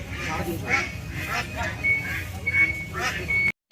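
Domestic ducks at a rural market on a rainy day, several close, loud quacks repeating in quick bursts over crowd noise and nearby talking.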